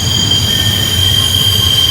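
A freight train's locomotives roll around Horseshoe Curve on a long climbing grade, a loud, close, continuous rumble of rail cars with steady high-pitched wheel squeal on the curve and no talk.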